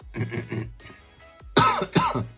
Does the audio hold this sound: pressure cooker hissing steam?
no